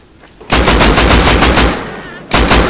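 Automatic gunfire in the survival video game Rust: a long, loud, rapid burst of shots close by, followed after a short gap by a second brief burst.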